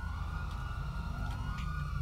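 Police siren in the Grand Theft Auto V video game, a steady wailing tone sweeping up and down over a low rumble, loud and continuous for the whole short stretch.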